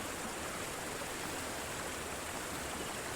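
Steady broadband water flow in the Lubāna wetland in Latvia, a continuous rushing wash like a stream or small weir, even and unbroken throughout with no voices.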